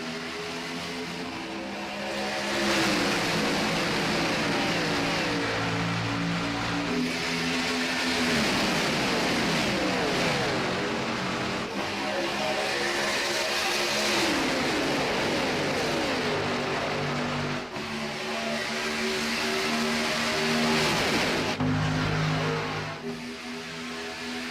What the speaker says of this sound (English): 29 cars getting ready to roar to life as Flanagan leads us into the restart zone